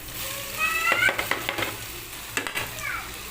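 Potato pieces go into a sizzling onion-tomato masala and are stirred. Sharp spoon-against-pan clatters come in short bursts over a continuous close frying hiss.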